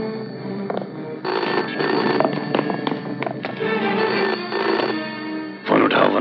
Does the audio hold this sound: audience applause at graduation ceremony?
no